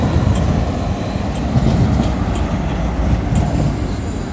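A tram rolls past on the rails in Belgrade, a loud continuous rumble with rhythmic wheel clacks and faint squeals, close by.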